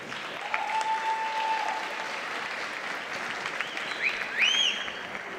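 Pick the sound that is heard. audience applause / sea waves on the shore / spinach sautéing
audience applause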